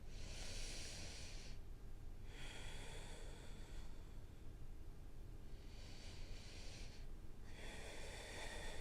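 Deep yoga breaths during a lower-back strengthening pose, close and soft, with airy inhales and exhales alternating in a slow rhythm, four breath bursts separated by brief quiet pauses.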